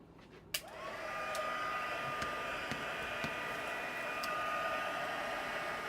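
A heat tool switches on with a sharp click and then blows a steady, loud whooshing hiss with a thin whine, running continuously while setting craft material in an indoor craft setting.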